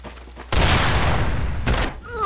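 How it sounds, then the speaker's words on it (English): A burst of video game gunfire during an online multiplayer shooter match, one loud sustained volley followed by a second shorter crack, close and dominant. "What is that shot there?"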